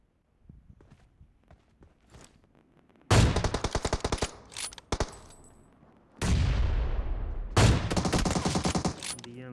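Gunfire in Battlegrounds Mobile India on the Erangel map: two loud bursts of rapid automatic fire, each a dense string of close shots, separated by scattered quieter shots and footstep-like taps.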